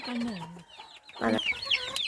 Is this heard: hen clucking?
yes